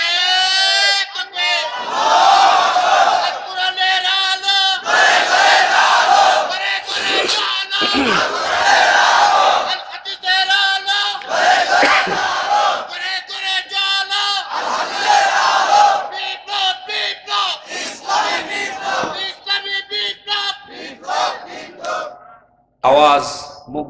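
A large crowd at an outdoor Bangla religious sermon gathering chants the takbir in loud, repeated bursts of unison shouting, with a leader's call and brief pauses between chants.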